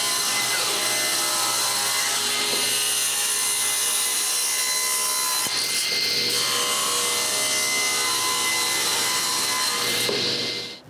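Woodworking saw with its blade tilted to 45 degrees cutting the corners off a wood blank for lathe turning, a loud continuous whining and rasping cut that holds steady for about ten seconds and then trails off.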